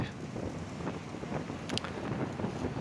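Wind buffets a microphone aboard a moving bus in a city, a loud continuous rushing roar close up, with a brief sharper gust near the middle and no voices.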